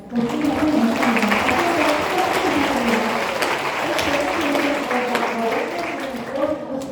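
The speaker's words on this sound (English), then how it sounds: "Please give them a big round of applause once again." Dense applause from a crowd, a steady wash of clapping that holds evenly throughout.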